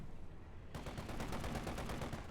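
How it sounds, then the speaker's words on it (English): Rapid automatic bursts from a 2cm Flak 38 anti-aircraft cannon in the World War II strategy game Company of Heroes 2, a dense run of loud shots under continuous battle noise. "With its 2cm flak cannon there,"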